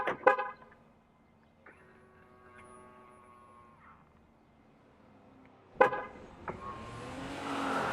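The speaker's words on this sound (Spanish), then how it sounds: "cómo activar el claxon al bloquear y desbloquear las puertas del coche" A car horn rigged to honk when the doors lock or unlock gives a short burst at the start and another near the six-second mark, with quieter tones in between and no talking.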